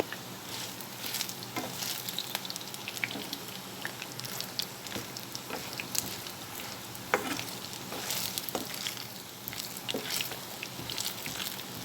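Steady crackling sizzle of okra frying in hot oil, with occasional louder pops and spatters throughout, close and fairly consistent.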